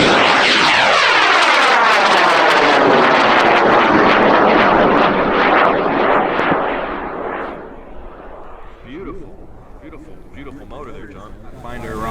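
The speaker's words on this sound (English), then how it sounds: "We're launching John Borget's rocket off of pad 4," A high power rocket launches from the pad at a large rocket meet, opening with a loud, close, roaring blast whose pitch sweeps downward as it climbs away, fading to a distant rumble.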